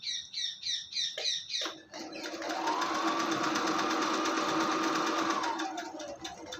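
Two layers of cloth are stitched together on a sewing machine for a hindola jhalar. A few short, choppy stitching bursts come first, then one long, steady, whirring run that holds for several seconds, close and alone.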